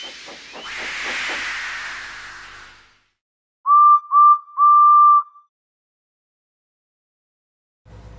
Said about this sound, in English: So they lit his fire, made lots of steam,